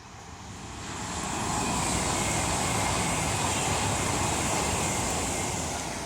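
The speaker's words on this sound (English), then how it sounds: "now coming through is an Avanti West Coast Class 390 Pendolino from Manchester Piccadilly to London Euston" An Avanti West Coast Class 390 Pendolino from Manchester Piccadilly to London Euston passes through Rugby station on the West Coast Main Line, its rushing roar swelling quickly and holding loud and steady for several seconds.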